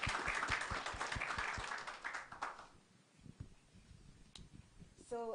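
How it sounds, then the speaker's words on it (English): An audience claps in a warm round of applause for panelists at a DataFest Africa 2024 conference session. The dense clapping fades after a couple of seconds into quieter room sound. "once again, a round of applause, a warm welcome to our panelists today"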